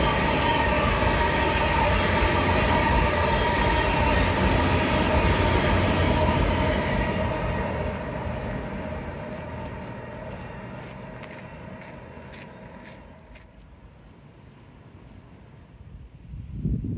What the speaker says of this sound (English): Train takes priority.